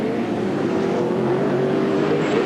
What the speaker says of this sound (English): Big pack of V8 shuffling through XR8 corner